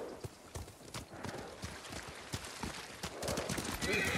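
Horses' hooves clip-clop in a quick, uneven rhythm in the Ghost of Tsushima video game, with a faint whinny and scattered thumps building toward the end.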